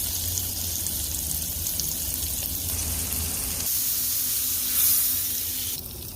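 Seasoned chopped meat for cheese steaks sizzles on an outdoor cooktop at night as pepper jack cheese goes on, giving a steady, close hiss that runs unbroken throughout with no talk.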